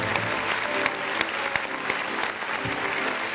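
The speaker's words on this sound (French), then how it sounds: "On va applaudir pour tous les téléspectateurs." Studio audience of a live daytime television show applauding together, dense steady clapping with a few louder individual claps, close and continuous throughout.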